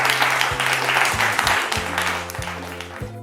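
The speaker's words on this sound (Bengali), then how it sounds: "And হাততালি হয়ে যাক for Team D," Audience applause for a family at a SENCO jewellery store anniversary event, a dense burst of clapping over a low musical hum, tapering off toward the end.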